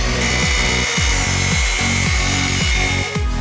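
A machine polisher works a one-step polish on a private jet's surface, giving a loud steady motor whine with a rhythmic pulsing drone that repeats about twice a second, close and continuous with no speech.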